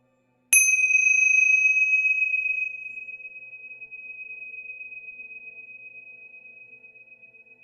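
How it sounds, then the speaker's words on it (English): Metal chimes struck once to clear energy, a bright ringing strike whose clear tone lingers and slowly decays over several seconds alone in a quiet room. "I'm going to use the chimes to clear."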